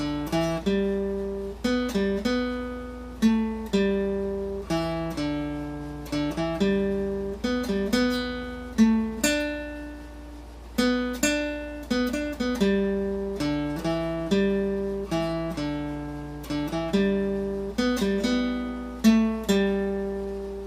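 Single plucked acoustic guitar notes ring out one after another in a slow, simple melody, each note decaying before the next, played alone.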